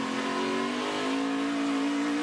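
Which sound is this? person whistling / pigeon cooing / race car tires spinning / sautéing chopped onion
race car tires spinning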